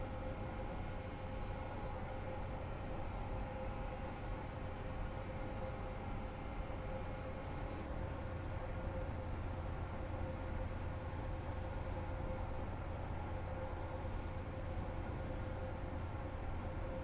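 Steady rumble of a train running into a station in the Roblox game Stepford County Railway, a continuous low drone with a faint hum, loud and unchanging throughout with no voices.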